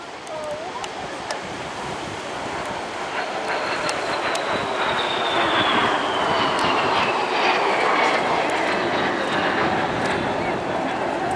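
A BAE Hawk T1 jet flies a display at the Blackpool Airshow, giving a steady broad roar with a slowly falling whine that builds and holds loud. Wind or surf noise sits underneath, and a commentator speaks over it.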